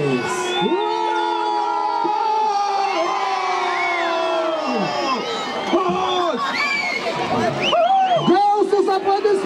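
A large crowd at a Christmas tree lighting in Panevėžys, Lithuania, erupts in loud sustained cheers, whoops and children's shouts right after the countdown, swelling toward the end.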